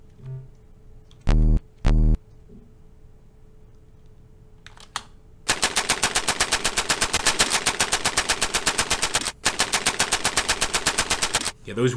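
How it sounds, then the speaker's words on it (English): Rapid, sustained machine-gun fire from a tank-mounted MG in a tank simulator game, a long steady burst after a couple of short loud thumps and a brief pause, with a short gap midway before firing resumes. "we could get a crewman on that MG and start firing with that as well"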